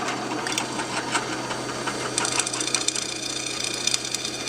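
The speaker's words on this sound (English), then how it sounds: "Same drill speed." A drill with a freshly sharpened bit bores into steel, a steady whirring motor with a rapid rattling, chattering grind that grows harsher midway, close and continuous, no voices.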